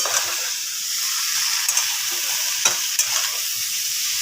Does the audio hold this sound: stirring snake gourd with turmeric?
yes